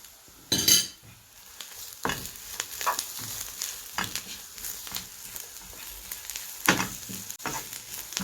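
Onions caramelizing with a little added sugar sizzle in a frying pan, a steady close crackle broken by a few louder stirring scrapes and utensil clinks against the pan.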